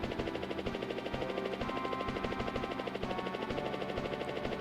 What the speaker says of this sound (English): I need to play more helicopter games.